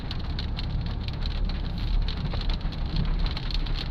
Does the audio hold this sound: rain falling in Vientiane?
yes